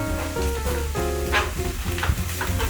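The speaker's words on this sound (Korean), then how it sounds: "지금 마저 볶아 주고요" Food stir-frying in a frying pan with soy sauce and sugar, a steady close sizzle with scraping and clanking of utensils against the pan throughout, under a layer of low kitchen hum.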